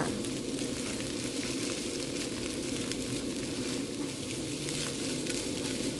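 Egg stir-fries in a hot pan with a steady crackling sizzle that continues evenly throughout.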